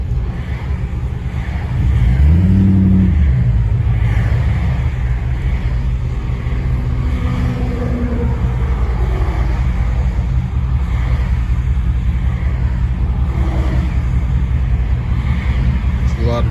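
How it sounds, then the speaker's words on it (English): Rush hour road traffic in New York on a Tuesday, a constant loud low rumble of engines and tyres heard from inside a moving vehicle, with passing vehicles swelling briefly and someone talking over it. "There's a lot of traffic. It's rush hour in New York right now on this Tuesday."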